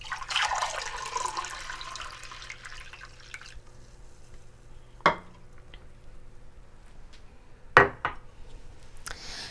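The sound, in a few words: pouring agave simple syrup over the sink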